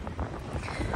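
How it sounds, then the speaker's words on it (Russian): Wind gusting across an outdoor microphone, making a rough, buffeting rumble that rises and falls through a brief moment, with no voices. "вот у меня начал дуть ветер"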